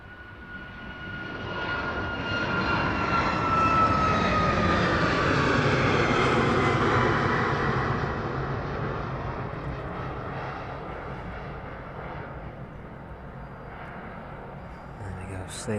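A jet airliner departs the runway at East Midlands Airport bound for Heraklion, its engine roar swelling loud and broad, then slowly fading into the distance as it climbs away.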